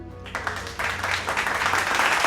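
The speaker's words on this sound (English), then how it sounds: "Give applause to our team and our special guests for appearing today." Applause for a team and special guests at the end of a presentation on ancient Southeast Asia, a crowd clapping that swells after a moment and continues steadily and fairly close.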